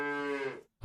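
A single cartoonish cow moo from the Super Auto Pets video game, a clear sustained tone lasting about half a second, followed by a short soft thump.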